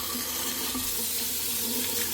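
Purified stream water runs steadily from a tap at a farm hut, a constant close rushing splash that stays even throughout with no voices.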